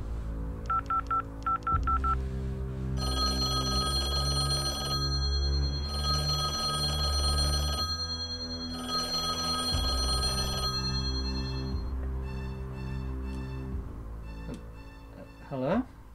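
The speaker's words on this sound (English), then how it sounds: "Answer your phone." A telephone rings and beeps indoors, with dial tones at the start followed by long repeating electronic ring bursts, fairly quiet and clear, ending with a brief pickup clatter.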